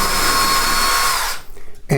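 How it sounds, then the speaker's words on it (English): A power drill whirs steadily as it drives screws into a wall, then stops abruptly and falls quiet before a short knock at the end. "That means you can just drill your screws directly into the wall."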